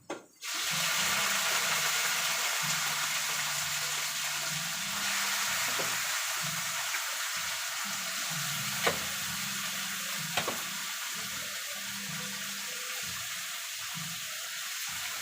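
Chicken for creamy chicken pastil sizzles loudly in a hot pan, a steady hiss and crackle after an initial drop in, with a couple of light clinks of stirring.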